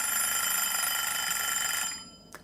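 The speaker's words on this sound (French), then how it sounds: "Le minuteur." A kitchen timer rings loudly and steadily for about two seconds in a shrill metallic trill, then cuts off, leaving a quiet room with a faint click.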